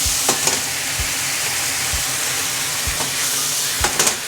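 Pasta cooking water and sauce for yellowtail and broccoli spaghetti bubble hard in a pan over high heat, giving a loud, continuous frying hiss broken by a few dull knocks and scrapes from stirring.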